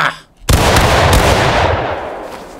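A massed musket volley in a War of Rights battle crashes out as one loud, close blast and rolls away in a long, fading rumble over about two seconds.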